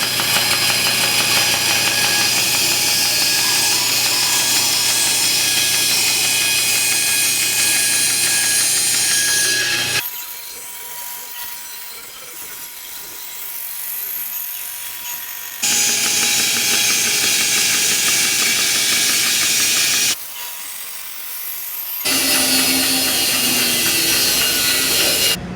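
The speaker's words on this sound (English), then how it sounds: "we have our piece cut out on the bandsaw" A bandsaw cutting a wooden piece for a three-legged stand, a loud steady whine in long stretches broken by two brief quieter pauses.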